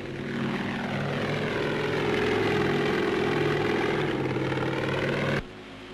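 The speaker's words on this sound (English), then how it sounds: "the autogyro needs hardly any room for a takeoff" A 1941 Pitcairn PA-36 autogyro taking off from Bolling Field in Washington DC, its propeller engine droning loud and steady with a throbbing rotor beat, cutting off abruptly near the end.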